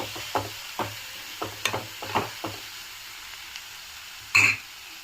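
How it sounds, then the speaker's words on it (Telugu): Broad beans (chikkudukaya) fry with chili powder in a pan, giving a soft, low sizzle under several scraping stirs of a spatula, then a brief louder clatter near the end. "ఇంకొక ఫైవ్ మినిట్స్ బాగా మగ్గనెత్తాము చిక్కుడుగాయని"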